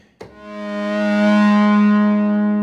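A single synthesizer note from a DeepMind 12 played through a delay effect with a dulled high end. After a sharp attack it swells and holds as one steady, rich tone, alone and up close.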